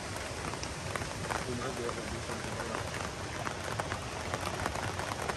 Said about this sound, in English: So right now we have some sunny rain.